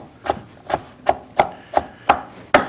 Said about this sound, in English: And again, for chopping it up fine, we do the same thing. Chops it up beautiful, nice and fine.